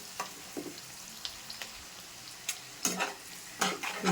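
Fish fries in oil in a pan, a faint, quiet sizzle broken by sharp scrapes and clatters of stirring, some sporadic and a few louder clusters near the end.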